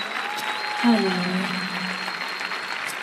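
Worship service congregation clapping steadily as a sustained wash, while a voice speaks briefly over it and soft held keyboard notes ring underneath.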